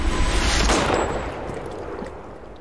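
A gunshot in the horror video game The Medium gives a loud, broad blast that decays into a rough, rumbling tail over a couple of seconds, with no talk.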